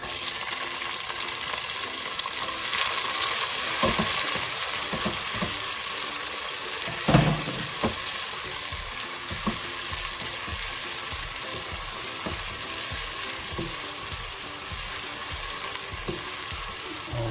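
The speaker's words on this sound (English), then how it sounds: "Just saute it for a few seconds, and we add our onion, tomato and green chili." Onion, tomato and green chili sautéing in a pan for dal dhokla, a steady close sizzle and crackle holding level throughout with occasional soft stirring knocks.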